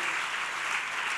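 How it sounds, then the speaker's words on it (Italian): A crowd at a political event in Bologna applauds steadily, a dense, even wash of clapping from a large indoor audience heard from a distance, with no talking. "e facciamo un applauso"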